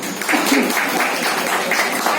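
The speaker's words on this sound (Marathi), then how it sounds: "त्यांच्यासाठी आज जोरदार टाळ्या वाजवा" Audience applause at a birthday celebration for a professor, a dense, steady patter of many hands clapping continuously at moderate loudness, with faint voices mixed in.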